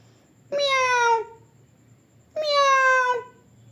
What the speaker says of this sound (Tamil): பூனை சத்தம் கேட்டு திரும்பினாள்.